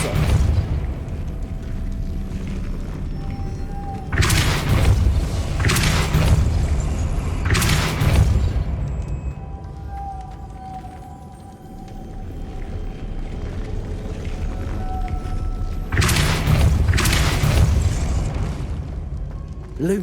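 Repeated Depulso spell casts in Hogwarts Legacy sound as several loud booming blasts in clusters across about twenty seconds, each a sharp burst with a rumbling tail, separated by quieter stretches of ambient game sound.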